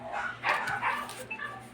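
Several dogs bark in quick, overlapping yips at a rural home, close and moderately loud over a steady low hum.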